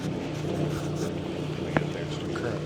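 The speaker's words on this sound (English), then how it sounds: "we are getting the generator going, get the engines fired up" Marine engines aboard a yacht running at a steady idle, a continuous low harmonic drone with a generator hum, up close and constant, with one brief sharp knock partway through.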